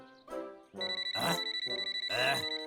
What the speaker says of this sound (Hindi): सुनने में लगा जैसे मोबाइल की घंटी बज रही है